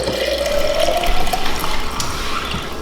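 Kefir water pouring into a clean glass jar, a continuous close liquid gurgle and splash with a rising pitch as the jar fills, loud and alone for nearly three seconds.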